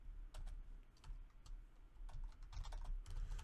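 Keys on a computer keyboard are pressed in quick, irregular bursts of sharp clicks, close and fairly quiet, with short pauses between runs of typing.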